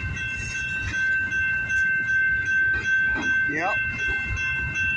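A CN freight train passing in the Michigan area, with steady rumbling and rhythmic wheel clatter under a sustained tonal whine; a brief spoken word is heard.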